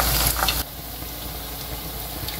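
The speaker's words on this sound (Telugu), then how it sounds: "మీడియం ఫ్లేమ్లోనే ఫ్రై చేసుకోవాలి" Vegetable Manchurian balls fry in oil over a medium flame, giving a steady close sizzle that starts louder and bright, then settles into a softer continuous hiss with faint crackles.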